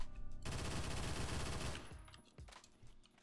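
Automatic fire from an X95R MTAR in the Phantom Forces shooter game: a sustained, loud burst of rapid shots running about a second and a half, then a few scattered single shots as it trails off.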